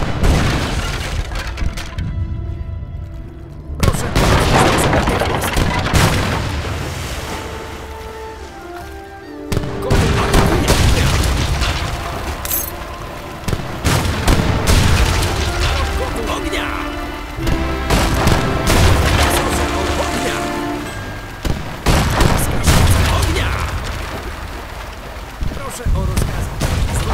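Musket volleys and cannon blasts crack and boom in repeated bursts through a pitched battle in Age of Empires III, the 1654 Battle of Shklow, with commanders shouting orders over the gunfire.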